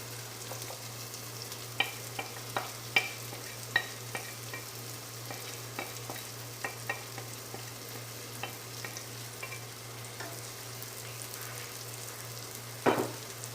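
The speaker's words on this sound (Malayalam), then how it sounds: "ഇനി അതും നമുക്ക് നന്നായിട്ട് ഇളക്കി കൊടുത്ത് മൂത്ത് വരുന്നത് വരെ നമുക്ക് ഇളക്കി കൊടുത്ത് യോജിപ്പിക്കാം." Spices are stirred and fried with chicken sausage and potato in a pan, giving a quiet steady sizzle under repeated scraping and clinking of a spoon against the pan, with a sharper knock near the end.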